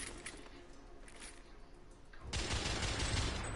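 Rifle gunfire in the video game The Order: 1886, a dense, steady fusillade of shots that grows louder and heavier partway through, with no talk over it.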